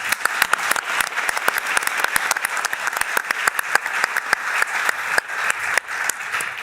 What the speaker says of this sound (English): if we could just give them a quick round of applause